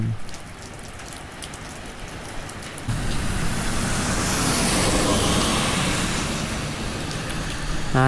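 Steady rain pattering on a surface in Vientiane, Laos, growing heavier after a few seconds, with a broad wash of noise like passing traffic underneath.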